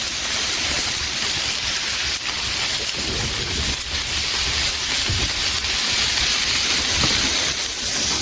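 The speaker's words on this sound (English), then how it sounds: "You want to keep that sizzling up." Dense, steady crackling hiss of burger patties searing on a hot grill fills the clip without pause.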